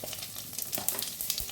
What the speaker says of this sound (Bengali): এরপর ওই মাছ ভাজার তেলটার মধ্যে আমি শুকনো লঙ্কা আর তেজপাতা দিয়ে দিলাম